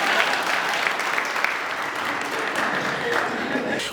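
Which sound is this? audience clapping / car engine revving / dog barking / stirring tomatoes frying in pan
audience clapping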